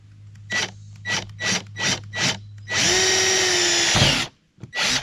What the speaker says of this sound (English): what I'm going to do is just drill a hole and stick that in the top and have me a little glow stick